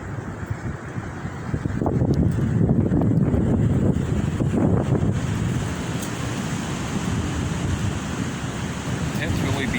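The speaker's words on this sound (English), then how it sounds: "You can see all the trees blowing here in the wind here." Strong windstorm gusts roar steadily into the microphone outdoors near trees and a tent, a loud, continuous rushing that swells after the first couple of seconds and stays heavy throughout.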